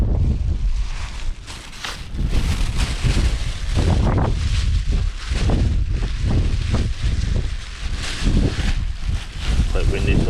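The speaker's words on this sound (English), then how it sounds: "It's quite windy, so I'm going to make sure the bag doesn't blow away." Wind gusting across a big pier at Whitehaven while fishing for mackerel, a loud continuous rushing and buffeting against the microphone that swells and dips in strong gusts throughout, with a voice talking underneath.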